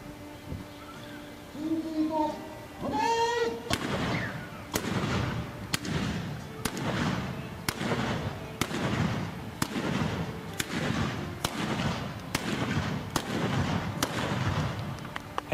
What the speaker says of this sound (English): Or to fire in sequence, giving the impression of non-stop,